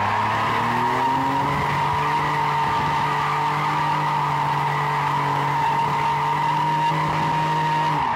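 A drift car spinning an elementary donut at a drift academy, tires squealing continuously and loudly under a sustained engine drone, steady and unbroken throughout.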